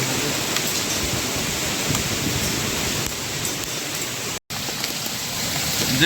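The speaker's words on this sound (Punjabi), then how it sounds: "ਅੱਧਾ ਘੰਟਾ ਹੋ ਗਿਆ ਲਗਾਤਾਰ ਗੜੇ ਪੈਂਦੇ ਆ" Hailstones falling without pause in a village courtyard on a February morning, a dense continuous rattling hiss of heavy hail with a brief dropout partway through.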